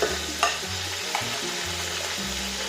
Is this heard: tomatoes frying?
yes